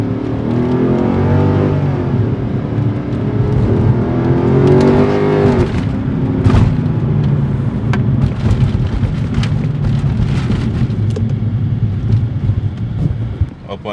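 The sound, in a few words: car engine revving under throttle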